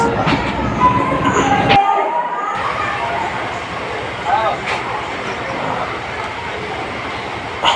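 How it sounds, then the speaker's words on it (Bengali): A train runs along a meter-gauge line after leaving Parbatipur railway station, with a steady rumble and wheel noise that carries through the whole stretch. A short gap interrupts it near the start, and faint voices sit in the background. "পার্বতীপুর রেল স্টেশন থেকে যখন আমরা ট্রেনে করে বের হই"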